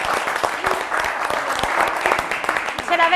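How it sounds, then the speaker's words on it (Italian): Studio audience at an Italian sports show applauds, a lively, fairly close burst of clapping with some voices mixed in, ending as a voice starts speaking. "Un applauso per i primi punti!"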